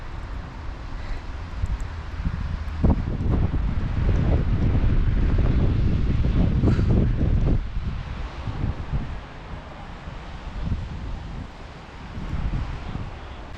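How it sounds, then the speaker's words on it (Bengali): Strong gusting wind buffets the microphone during a snowstorm in Canada, a loud continuous low roar with surges and rustling, easing somewhat toward the end, with no voices. "খুব বেশিক্ষণ থাকা যাবে না, যে অলরেডি হাওয়া শুরু হয়ে গেছে।"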